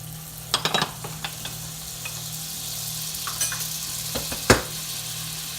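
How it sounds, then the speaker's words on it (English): Butter sizzling in a pan with caramelized onions: a low steady crackle runs under several sharp clinks of a utensil against the pan, clustered near the start and again later, with no talk. "Just a pinch of butter. Because the butter goes really well with caramelized onions."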